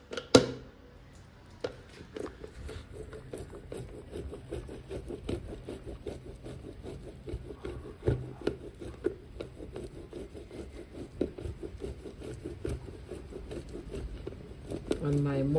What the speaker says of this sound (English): I'm gonna grate some francs on my vegetable grater